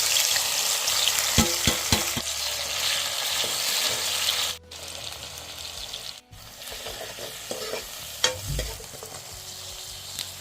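Vegetable curry with extra green chilli simmering and sizzling in a pot on a wood-fired clay chulha stove: a steady close frying hiss with a few soft stirring knocks, no voices.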